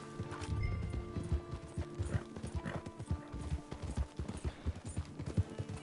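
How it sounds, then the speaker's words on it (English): Horse hooves clip-clop steadily in Red Dead Redemption 2 while riding back into the town of Blackwater, a continuous rhythmic trot in the foreground with a faint whinny and no talking. "It's riding back into town, I guess. Into Blackwater."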